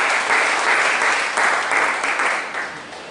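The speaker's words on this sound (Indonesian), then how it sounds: "Beri tepuk tangan yang luar biasa kepada Tuhan." At an Indonesian church service, the congregation breaks into sustained applause praising God, a thick, even roar of many hands clapping that swells and then gently tapers.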